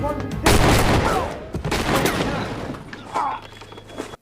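Pistol shots ring out in a film action scene, several loud sharp cracks and bursts spread over a few seconds, with reverberant booms between them.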